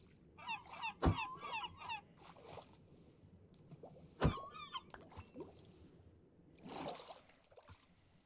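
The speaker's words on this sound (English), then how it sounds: "is that a fucking seagull just chasing me?" A seagull in the video game New World calls with a few honking, squawking cries near 1 and 4 seconds, over soft trickling water and quiet background ambience.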